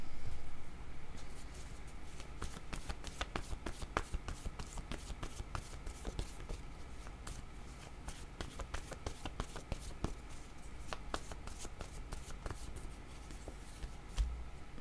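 Cards riffled and handled for a card reading, a close, rapid run of crisp flicks and snaps repeating steadily through the whole stretch, with no speech.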